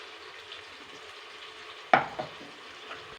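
Ground masala paste for chicken biryani frying in oil: a low steady sizzle, then a sudden louder hiss and clatter as it is stirred, fading back to a soft simmering crackle.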